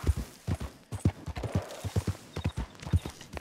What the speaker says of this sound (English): I'm gonna get the horse out of here